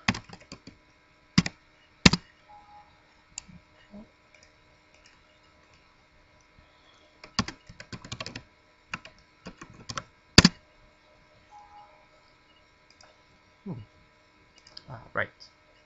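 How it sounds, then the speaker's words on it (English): Scattered bursts of keystrokes on a computer keyboard while login details are entered during a camera driver installation, the clicks close and crisp with quiet pauses between short runs. "I'll type it in now."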